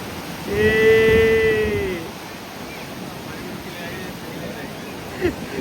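Sea waves at Puri beach roll in as a continuous broad wash of surf, with a drawn-out vocal call near the start and wind buffeting the microphone.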